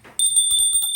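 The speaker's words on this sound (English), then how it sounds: "I'm gonna ring the bell" A small metal bell rings once, its bright, sustained tone ringing steadily and close by after a faint rustle.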